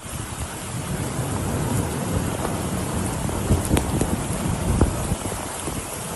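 Heavy rain falls across Saudi Arabia, a loud, unbroken roar of downpour with low thunder rumbles and a few sharper splashes rising through it.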